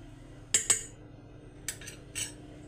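Flour, salt and ajwain are stirred together in a bowl, giving a few quiet scrapes and taps of a spoon on the dish, in two short bursts separated by near silence, with no voices.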